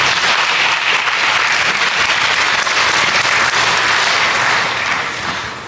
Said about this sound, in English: you can clap first and then answer questions